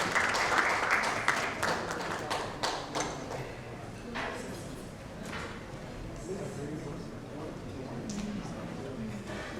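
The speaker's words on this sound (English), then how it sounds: "May we have a huge round of applause for the panelists" An audience at a healthcare and medical tourism conference applauds panelists with dense, loud clapping that gradually thins and softens over several seconds, mixed with some murmured voices.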